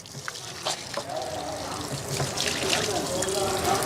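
Dirty wash water drains from a washing machine's drain pipe into a floor drain below where clothes are washed, a steady close trickling and splashing with faint voices in the background.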